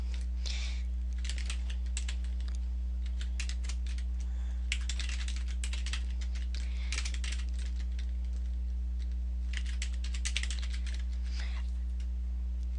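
Keys clatter on a computer keyboard in bursts of quick close taps, separated by pauses, over a steady low electrical hum.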